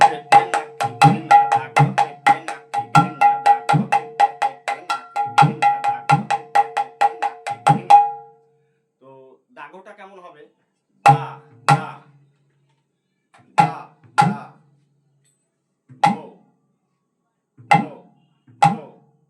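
Kaharwa taal played on tabla-style hand drums: a steady, rapid run of crisp struck strokes with ringing tones for about eight seconds, then a brief soft flurry and widely spaced single resonant strikes, close and loud with no talk.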